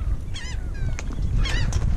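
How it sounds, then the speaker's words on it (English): Several harsh, honking seagull calls ring out in short bursts, a couple at once, over a low rumble of wind and water at a jetty. "I just like being out here and hearing these seagulls."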